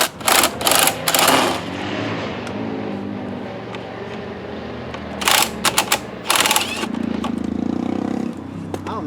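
A socket wrench removes bolts on a 2003-2011 Lincoln Town Car during blend door actuator work, short rapid ratcheting bursts in a few separate clusters, close and fairly loud, with quiet pauses between.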